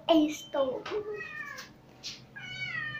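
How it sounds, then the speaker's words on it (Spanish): A small female cat meows several times in a home kitchen, with short rising and falling cries spaced apart and a longer drawn-out meow at the end, close and clear with no speech. "Y miren a mi gatita."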